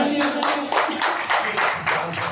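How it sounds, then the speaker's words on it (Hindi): A talent show audience in Karachi claps in several rhythmic surges, close and fairly loud, with bursts of hands swelling and easing across a couple of seconds, a voice briefly present underneath. "बहुत सारी तालियां"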